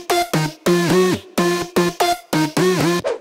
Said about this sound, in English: So the lead without effects sound like this.